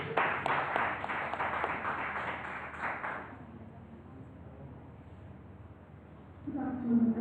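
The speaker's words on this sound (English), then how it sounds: "Please, a round of applause for her." An audience at a forensics and DNA scientific conference claps for a few seconds, a moderate patter of applause that fades out, followed by quiet room tone and a voice starting to speak.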